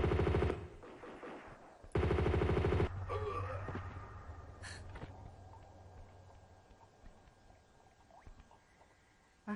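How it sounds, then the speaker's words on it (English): Bursts of rapid automatic fire from an M16 assault rifle in Tomb Raider II, two loud rattling volleys followed by quieter ambient game sounds and a faint click near the end. "So we got M16 assault rifle back from level 6"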